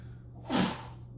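A single short, sharp sneeze bursts out briefly and fairly faintly in a quiet room during a tarot card unboxing, with no talking around it.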